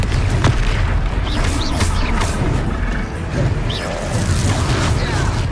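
A Confringo fire spell exploding in the wizarding game Hogwarts Legacy during a duel, a loud booming blast with crackling bursts layered over continuous battle noise.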